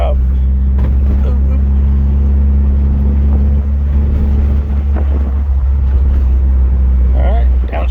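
A Mitsubishi Evo with a manual gearbox drones steadily at low revs while a learner driver shifts gears, the engine hum loud and constant throughout, with people talking inside the car.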